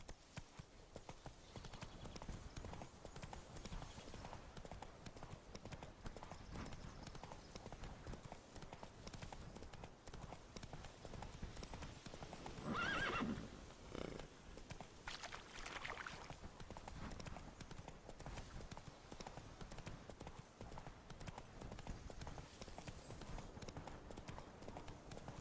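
Hoofbeats of a horse galloping steadily through the game world of The Witcher 3: Blood and Wine, a continuous clip-clop rhythm with a brief whinny-like burst midway, layered over game ambience.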